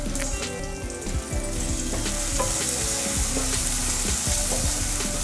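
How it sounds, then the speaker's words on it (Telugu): Goat brain masala with curry leaves, mint and coriander fries in a pan over a medium flame, giving a steady close sizzle and crackle with occasional stirring scrapes and no talking. "ఈ ఫ్రై అనేది బేజా ఫ్రై మీడియం ఫ్లేమ్లోనే కుక్ చేసుకోవాలి"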